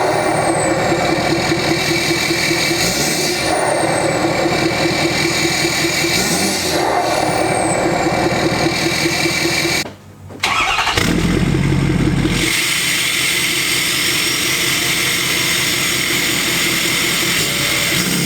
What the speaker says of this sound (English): let's get the truck started up and see how different she sounds